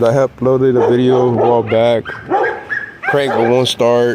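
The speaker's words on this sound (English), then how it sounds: "Sorry about the damn dogs." Dogs barking and yipping in the background while someone talks over them throughout, the barks partly masked by his close, loud voice.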